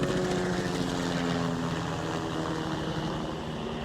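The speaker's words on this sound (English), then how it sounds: "Helicopter." A helicopter flies overhead outdoors, a steady loud droning rotor and engine rumble that fills the whole stretch and slowly fades slightly toward the end.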